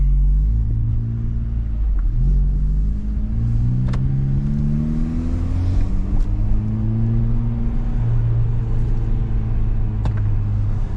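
Honda Civic Type R FL5 with a front resonator delete and the exhaust valve held open, cruising. Its deep exhaust drone stays loud and continuous, with pitch rising through gears in layered sweeps, and no one speaks.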